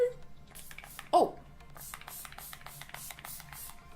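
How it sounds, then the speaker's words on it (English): Rimmel Insta Fix makeup setting spray is misted close up in a quick series of short hissing bursts. A brief vocal exclamation interrupts partway through. "Let's go ahead and finish off the makeup look with some makeup setting spray."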